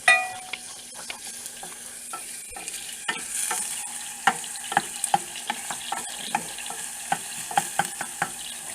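Garlic for tomato sauce sizzling gently in a pan over low heat, a soft steady fry with a spoon stirring and tapping against the pan in irregular clicks.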